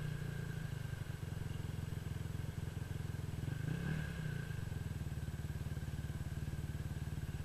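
A quad bike engine pulling away as the clutch is released, a steady, faint idle-like mechanical chatter with a brief swell in revs midway, no voices.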